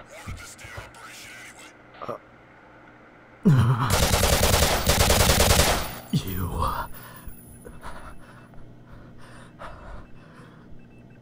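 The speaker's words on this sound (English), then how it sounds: "You gunned down unarmed, innocent people without a second thought." Machine gun fire erupts in a sudden loud, dense burst lasting a couple of seconds, surrounded by quieter breathy gasps and muffled movement before and after.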